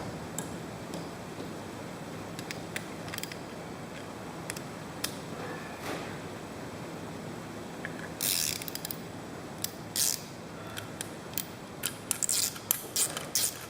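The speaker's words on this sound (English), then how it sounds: "Take the bolt, I can thread it in by hand" A metal bolt threaded by hand into a hole, heard as soft, sparse metallic ticks and light scrapes, growing into a quicker run of sharper clicks near the end; close and quiet, with no talking.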